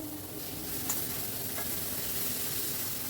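A mashed eggplant and tomato mixture is stirred into softened onions frying in a pan. It gives a continuous low sizzle with a couple of faint spoon scrapes, and no voice is present.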